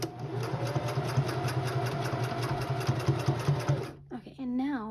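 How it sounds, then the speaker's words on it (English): A sewing machine stitches elastic onto a hijab under-cap in a steady close whirring run of rapid needle strokes, stopping near the end as a voice begins speaking. "just sew it up to here a little bit, just so that the elastic doesn't come off"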